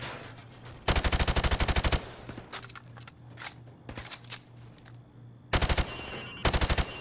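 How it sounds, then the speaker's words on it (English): Call of Duty: Modern Warfare Remastered firing range, shooting pop-up targets through plywood: two long bursts of rapid automatic fire with scattered single shots between them, close and loud over a low steady hum. "I want you to shoot the targets through the wood."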